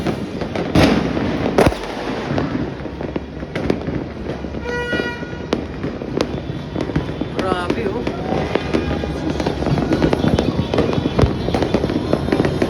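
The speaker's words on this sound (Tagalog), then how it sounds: "Walang katapusang fireworks." Ceaseless New Year 2025 fireworks burst over Manila near the pier, a dense rolling barrage of booms and crackling pops with sharp reports, while people nearby exclaim and chat throughout.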